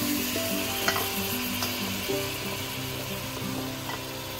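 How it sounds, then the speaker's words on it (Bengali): Marinated chicken with sour yogurt and black pepper sizzling in a hot pan on a gas flame for chicken biryani, a close, steady fry with a few scraping stirs of a spoon through the pieces. "এখন এই ম্যারিনেট করা চিকেনটা এর মধ্যে দিয়ে দেব।"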